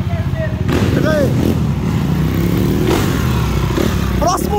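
A BMW S1000RR drag bike engine revs hard close by, rising and falling in pitch in loud bursts, while people talk and shout over it.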